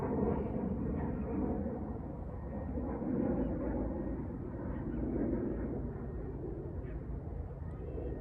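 A low, steady engine rumble fills the whole stretch, swelling slightly and holding, like an airplane passing overhead at a distance.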